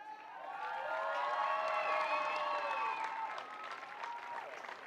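Applause and cheering from a stadium crowd at Loftus Versfeld in Pretoria honour the athletes of a men's boulder and lead climbing final, rising to a loud sustained roar with whistles and hoots before tapering slightly.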